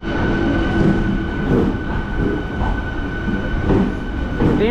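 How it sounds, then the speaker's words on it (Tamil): A Salem to Arakkonam MEMU express train pulls away with continuous rolling rumble, rattling carriages and brief squeals and clanks from the wheels, heard from on board. "நம்ம ட்ரெயின் ஆன் டைமுக்கு சேலம் ஜங்ஷன்லேருந்து ஃபஸ்ட்டு பிளாட்ஃபார்ம்லேருந்து கிளம்பிடுச்சு"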